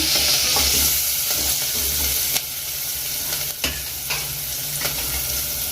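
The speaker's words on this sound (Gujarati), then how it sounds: "આ ડુંગળીને પણ એમાં એડ કરી દઈશું। હલાવી દઈશું આપણે।" Sliced green chillies and onion hiss loudly in a hot pan for rava masala dosa filling, a steady close sizzle broken by a few scraping stirs of a spatula.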